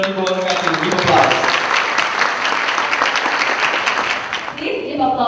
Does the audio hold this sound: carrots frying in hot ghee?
no